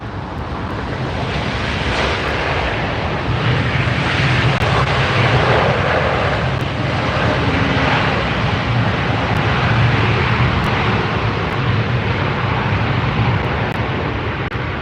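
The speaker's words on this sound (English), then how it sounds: "Starlux. Gorgeous aircraft. Love seeing that come in." A Starlux jet airliner lands at LAX, its engines producing a loud, continuous roar close overhead that holds steady throughout with no voices.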